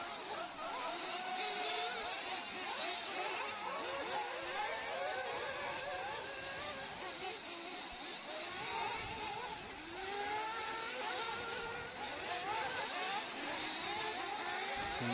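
Race car number 13 at the Herts GP starts its lap with a faint, distant engine whine rising and falling through revs. Other car noise mixes in.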